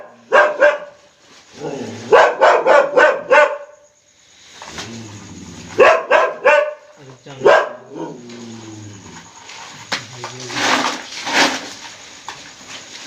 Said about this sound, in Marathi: कुत्रा भुगतो